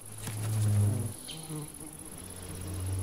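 An ivy bee (Colletes) buzzes close by as it takes off to forage, a loud rising drone that fades and swells again against a quiet outdoor background.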